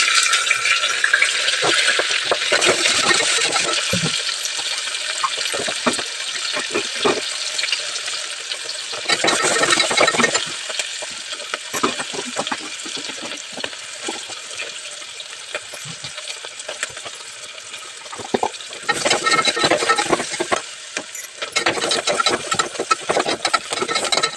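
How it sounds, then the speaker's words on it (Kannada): Masala fries in a hot pan while being stirred, a steady loud sizzle with scraping spoon strokes that swell and ease in waves across the cooking. "ಅದಕ್ಕೆ ಮಸಾಲೆಲ್ಲೇ ಚೆನ್ನಾಗಿ ಫ್ರೈ ಮಾಡಿಬಿಡ್ತೀನಿ"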